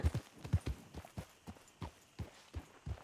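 Horse hooves clip-clop at a steady walking rhythm in the Red Dead Redemption 2 video game, about a dozen close, moderately loud dull thuds heard alone over a quiet background.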